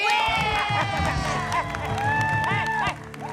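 A studio audience at a comedy show claps and cheers loudly and continuously, with whoops and shouted voices over the dense applause, easing slightly at the very end.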